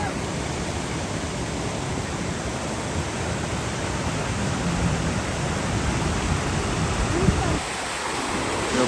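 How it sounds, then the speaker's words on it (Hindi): A waterfall beside the Shogran to Naran mountain road gives off a steady, dense roar of rushing water that stays even and loud throughout. "तो ये आबशार है"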